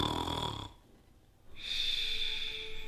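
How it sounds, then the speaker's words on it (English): A person snores nearby with two slow, raspy breaths separated by a quiet pause, steady and moderately loud, with no talking. "Are you snoring?"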